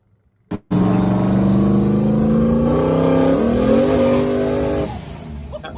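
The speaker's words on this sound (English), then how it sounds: "Sounds like there might have been a little bit of tire spin there" A powerful turbocharged truck engine with turbo headers roars and revs hard close by, pitch climbing steadily for about four seconds before cutting back, with a brief scrabbling edge of tires spinning.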